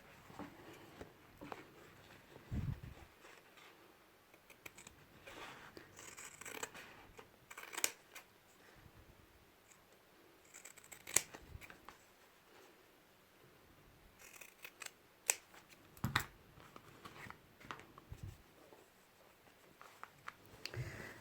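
Scissors snip intermittently at a fabric label during scrunchie making, with quiet, sharp cuts scattered over a soft background of handling sounds.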